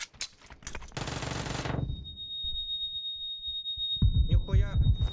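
Video game gunfire opens with a quick run of sharp shots, then a dense, roaring burst of rapid fire that fades out, followed by someone talking.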